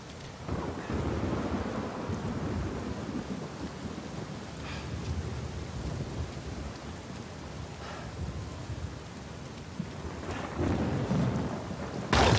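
A heavy downpour in the Uncharted 4 video game pours steadily with a continuous hiss, deep thunder rumbling underneath and swelling near the end, and no voices.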